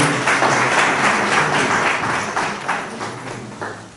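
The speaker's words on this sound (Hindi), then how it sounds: "कृपया जोरदार तालियां बजती रहें" An audience at a village council award ceremony in Himachal Pradesh applauding an honoree, a close, lively patter of many hands with rhythmic surges that gradually eases off.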